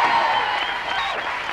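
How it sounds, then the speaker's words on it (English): Brief burst of studio audience applause for guest Tommy Docherty on a radio show, a steady wash of clapping at moderate level. "Round of applause for Tommy Docherty"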